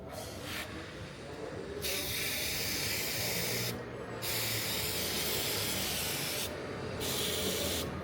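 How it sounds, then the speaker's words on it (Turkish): Long hissing bursts of an aerosol spray paint can on Suzuki TS125 motorcycle parts, two extended sprays separated by brief pauses, close and steady. "Şu sprey boyayla"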